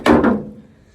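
Heavy door of an old OBS-era Ford 3/4-ton pickup truck swinging open, a loud close metallic clunk with a second thump right after, then a fading rattle.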